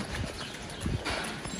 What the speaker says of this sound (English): Oh my god, they opened the gate. The cows are out.